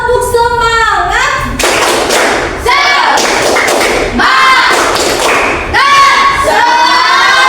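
Group rhythmic clapping chant, an Indonesian tepuk semangat ice-breaker: loud, close bursts of unison claps alternate with a group of voices chanting in rhythm, repeating in several rounds.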